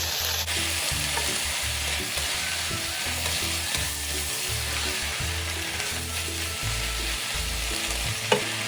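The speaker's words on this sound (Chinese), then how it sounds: "1条红辣椒切小段加入，炒匀后就可以离火了" Cabbage stir-frying in a wok with cut red chili and black vinegar, a continuous close sizzle broken by rhythmic thumping stir strokes of the spatula, with no voices.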